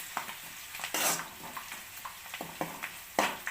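Flattened rice fries in a hot pan with a turmeric and salt tempering while a utensil stirs and scrapes through it in repeated strokes, close and moderately loud.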